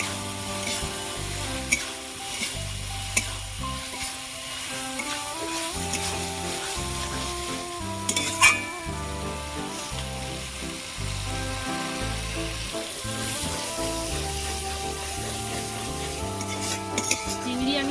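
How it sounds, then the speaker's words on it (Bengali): Prawns cooking in a spicy gravy for chingri rosa, a constant sizzle with repeated spatula scrapes and metal clinks against the pan, close and steady throughout, with background music underneath. "ভাজা ভাজা করে নিয়েছি গ্রেভির মধ্যে তেলও ছেড়ে গেছে"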